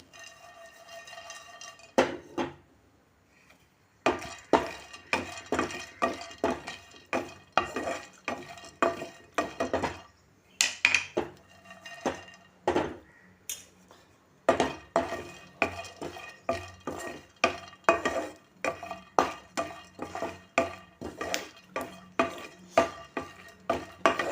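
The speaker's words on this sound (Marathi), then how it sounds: "त्याच्यावरती मी हे मगज भाजून घेणार आहे" Melon seeds dry-roasting in a pan for chickpea laddoos, a long stretch of rapid, rhythmic stirring and scraping against the metal with a faint sizzle and a few brief pauses, with no voices.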